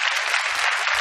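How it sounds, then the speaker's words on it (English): Dense, steady applause from a large audience at the Star Wars Celebration 2017 closing ceremony panel in Orlando, filling the whole moment with continuous clapping. "We, of course, absolutely applaud them."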